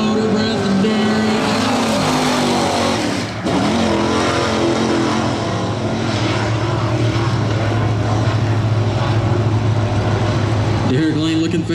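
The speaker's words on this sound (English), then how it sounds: "Derek Lane looking fast into turn number three, looking to put on a good lap here." A late model race car engine screams continuously at close range during qualifying laps at full throttle, holding a loud, steady roar throughout with only a brief dip partway through.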